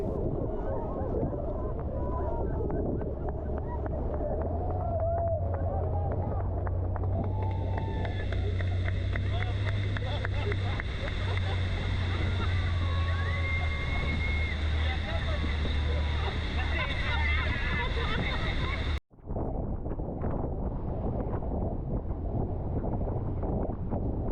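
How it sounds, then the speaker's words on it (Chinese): Tour boat rushing into a small waterfall at Iguazu Falls, a loud steady roar of engine, wind and pounding water that cuts off abruptly near the end before the rushing noise returns; voices are heard under it. "我们又再次冲到了旁边这个小瀑布里。"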